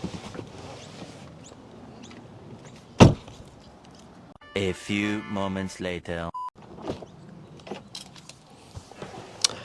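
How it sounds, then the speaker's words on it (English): A Tesla Model Y or Model 3 parked while being locked and unlocked, with a sharp thud, a run of electronic chimes and tones in the middle, then quieter clicks and handling noises; a voice speaks briefly. "Okay, so I've just locked the car and then unlocked the car"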